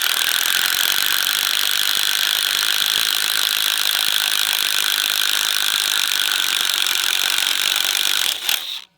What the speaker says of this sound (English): can you run a spade bit in an impact driver? Let's just see how this 1-inch bit right here